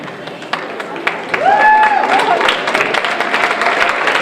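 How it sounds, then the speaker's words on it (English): Clapping builds from a school chemistry magic show audience as presenters come onstage, growing into sustained applause with a few voices and whoops on top. "Everybody, give a good round of applause."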